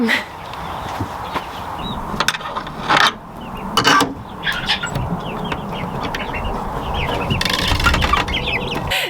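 Seven-week-old chicks in an outdoor brooder coop make steady clucking and cheeping along with some wing flapping and scratching, a busy, fairly close flock sound throughout.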